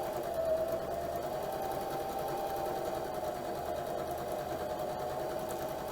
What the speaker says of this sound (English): And now you can just sew all the way through.